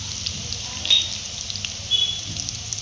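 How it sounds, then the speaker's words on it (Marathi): Garlic sizzles in hot oil for a Schezwan chicken fried rice, giving a steady close hiss with a few brief louder crackles and no talking. "आता याच तेलामध्ये आपण लसूण टाकून घेऊया"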